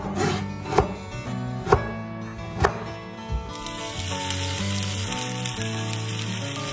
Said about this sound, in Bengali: ওইদিকে ঢেঁড়স ভাজা হচ্ছে